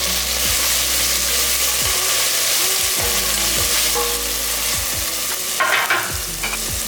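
Onions and tomatoes sauté in hot oil for a mutton gravy. A loud, continuous sizzle is broken by regular scraping strokes of a spoon stirring the pan, close up and with no one speaking.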